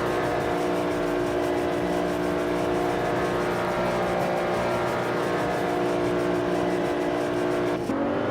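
Race car engine in the Assetto Corsa sim racing game on a short version of the Nürburgring, a continuous loud droning whine that holds a steady pitch with slight shifts, ending in a quick change near the close.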